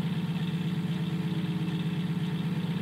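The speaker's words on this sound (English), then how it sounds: "I hear a M-80 Jeep" An M-80 Jeep engine in the video game Unturned idles and rumbles steadily, with a low pulsing drone held at an even level throughout and no voices.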